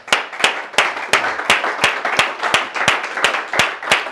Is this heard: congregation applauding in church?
yes